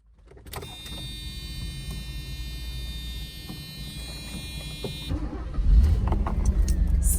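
A 1987 Mercedes-Benz 560SEC W126 is started. A steady idle hum with a high electrical whine cuts off, then the starter cranks and the engine catches with a deeper low rumble, close up.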